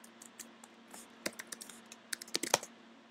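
Computer keyboard typing a member name and password on a login page, heard as irregular bursts of close, crisp key clicks with short pauses, without any talk.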